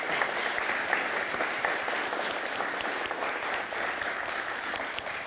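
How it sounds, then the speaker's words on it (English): An audience at the Qlik Developer Summit 2024 claps steadily and densely for about five seconds, a sustained wash of applause from a sizeable crowd with no pauses. "Can we just give them a little applause?"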